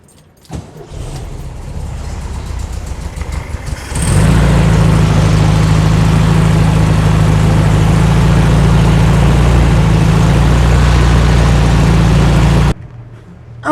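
A 1972 VW Karmann Ghia engine runs rough nearby, a loud, uneven idle with a slightly wavering beat that holds steady for several seconds before cutting off abruptly.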